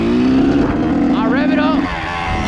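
Kawasaki KX112 dirt bike engine (2023) droning loud and close, its pitch sweeping up and down as it revs, with a voice talking over it.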